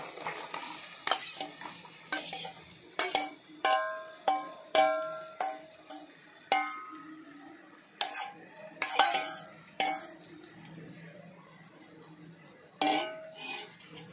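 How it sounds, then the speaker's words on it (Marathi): Chopped boiled potatoes tumble into a pan for vada pav filling and get stirred, a close series of sharp spoon-on-metal clacks and scrapes in an uneven rhythm, with soft background hiss and no talk. "त्यामध्ये आता आपण हे बटाटे कापून घेतलेले ते आता टाकून घेऊया."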